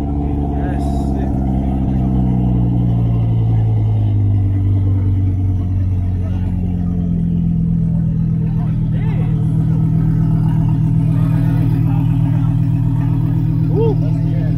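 A Porsche 911 GT3 RS engine rumbles and revs steadily throughout, its low droning tone rising and shifting under people chatting close by.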